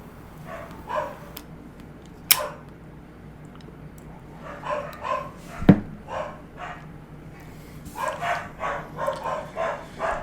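Dogs bark far off in several scattered bursts, some single woofs and some rapid clusters, with one sharper nearby knock, all fairly faint against a quiet background with no talking.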